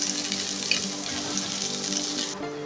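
Chopped red amaranth greens dropped into onions frying in hot oil, a loud steady hiss and crackle close by that cuts off abruptly near the end, with no voices.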